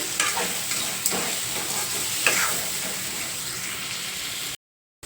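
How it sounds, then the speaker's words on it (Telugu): Ginger, garlic, green chillies, onions and tomatoes fry for an Andhra-style prawn gongura curry: a steady close sizzle with scattered spatula scrapes and taps, cutting to silence just before the end. "ఇది కొంచెం బాగా మెత్తగా మగ్గేంత వరకు మగ్గించేసుకోవాలి"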